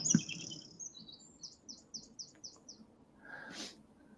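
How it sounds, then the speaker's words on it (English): Birds chirping outdoors, a repeated run of short tweets followed by a brighter call, moderately close against a quiet ambient background. "You can hear the birds chirping."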